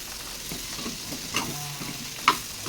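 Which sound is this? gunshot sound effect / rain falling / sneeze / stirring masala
stirring masala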